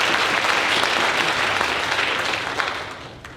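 Loud, dense applause from a convocation audience fills the whole stretch, a steady wash of many hands that eases slightly toward the end.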